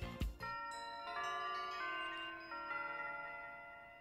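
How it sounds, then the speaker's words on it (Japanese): A school-style chime from the Pokemon Scarlet video game plays as a sequence of clear, ringing bell tones that step from note to note and sustain, loud and alone after a brief thump at the start. "学校のチャイムみたいな音だったな今。"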